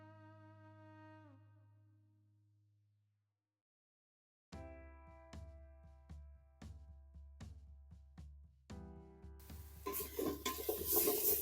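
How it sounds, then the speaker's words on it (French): Bacon lardons sizzle in a pan with onion and garlic, a faint hiss beneath a series of sharp, rhythmic scrapes and clinks of a utensil stirring against the pan, growing denser and louder toward the end after a quiet pause. "Hop, les lardons ils sont légèrement en train de griller."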